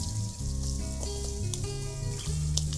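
Food frying in a fryer inside an RV gives a steady, close sizzle with a constant hum running beneath it.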